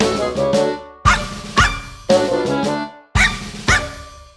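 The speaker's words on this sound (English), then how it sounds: "he's Toby, the worst dog in the whole wide world" Dog barks set into a song about a badly behaved dog, landing as sharp, loud yips in a rhythmic pattern of pairs over the music.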